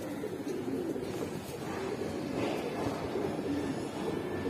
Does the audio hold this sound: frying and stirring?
no